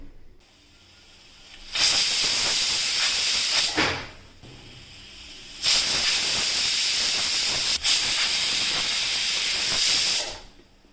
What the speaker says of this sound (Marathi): आपण कुकरच्या 3 शिट्ट्या काढून घेऊयात